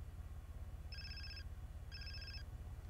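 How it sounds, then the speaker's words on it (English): A phone rings twice in Grand Theft Auto San Andreas, two even electronic trills about a second apart over a low steady game hum. "so we got a phone call"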